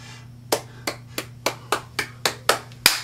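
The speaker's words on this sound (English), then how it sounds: "End with a loud clap." Hands clap in a steady beat over a quiet musical backing, nine sharp claps in a row with the last one noticeably louder and stronger than the rest.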